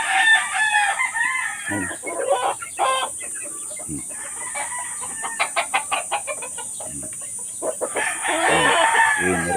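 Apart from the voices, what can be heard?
roosters crowing and clucking in a gamefowl coop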